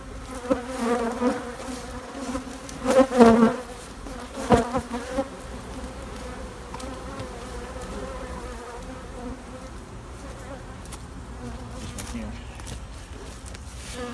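Honeybees buzz around a hive in a steady swarm drone, louder bursts rising briefly as bees pass close, with a person talking over the hum at times.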